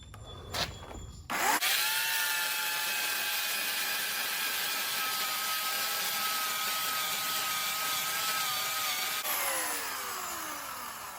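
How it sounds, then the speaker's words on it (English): An electric chainsaw whines steadily at high pitch while cutting through wood, running continuously for several seconds before winding down. "I don't think I'm making a lot of progress with that electric chainsaw."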